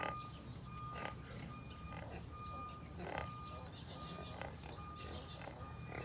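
Piglets in a crowded farm pen grunt and squeal in short, overlapping bursts, a busy chorus of the young pigs heard against a steady background hum.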